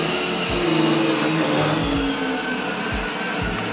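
An Ecovacs X2 Omni robot vacuum cleaner runs at maximum suction, a loud, steady whirring roar close by with a few soft low thumps and no talk.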